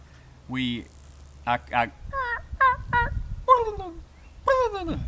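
A Rio Grande wild turkey gobbles during a Texas turkey hunt, giving a series of loud, warbling harmonic calls in short bursts with brief pauses between them, heard fairly close outdoors.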